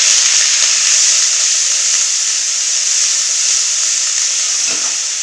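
Onion paste fries in hot oil with dried red chillies and a bay leaf, a loud close hissing sizzle that holds steady and fades slightly near the end, with no voices.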